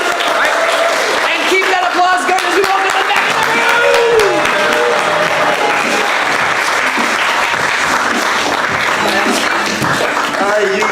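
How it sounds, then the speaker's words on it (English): Loud, sustained applause from an improv show audience fills the whole stretch, dense and steady with crowd noise and some voices mixed in. "keep that applause going as we welcome them back"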